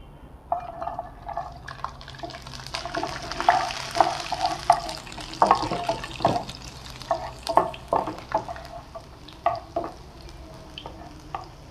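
Garlic frying in hot oil in a pan, a steady sizzle with stirring clatters and scrapes throughout, fairly close and moderately loud, no voices.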